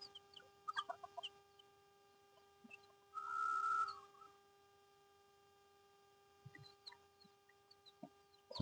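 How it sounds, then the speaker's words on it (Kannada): Native country chicks graze outdoors with a few faint, near chirps and clucks, a brief louder chicken call in the middle and scattered soft peeps afterward over a quiet background with a steady hum. "ಎಲ್ಲ ಯಾವ ರೀತಿ ಮೇಯ್ತಿದೆ ನಾಟಿ ಕೋಳಿ ಮರಿಗಳು."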